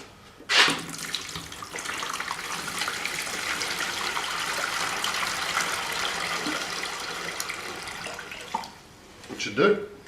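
Water pours steadily from a tap into a container being filled for electrolysis rust removal on an angle plate, a continuous close gushing splash of about eight seconds between brief knocks at the start and end.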